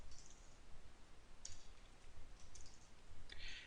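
A few faint, sparse clicks of computer keyboard keys in a quiet room, irregular single taps with no talk.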